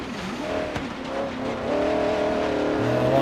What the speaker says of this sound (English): Get this vehicle revving along.